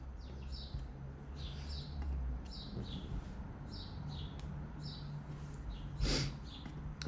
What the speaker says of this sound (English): Birds are feeling good this morning, I know. Chirping away.